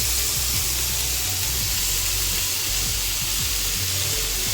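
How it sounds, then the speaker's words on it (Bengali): Potatoes and soybean chunks fry in a pan with a loud, constant hissing sizzle close by and a low rumble underneath, steady throughout with no talk. "আলু আর সোয়াবিনগুলোকে ভেজে নিচ্ছি প্রথম।"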